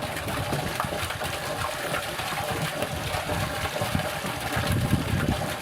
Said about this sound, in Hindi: बांस के पाइप के जरिए पानी उस घर में आने लगती है।